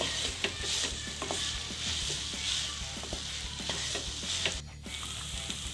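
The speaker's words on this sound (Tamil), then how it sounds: "இந்த வறுத்து வச்ச முட்டை எல்லாம் ஆட் பண்ணிக்கலாம். நல்லா கலந்து விட்டுக்கலாம்." Fried egg being mixed into cooked Maggi noodles in a pan, a continuous close sizzle with steady scraping and stirring strokes throughout and no talking.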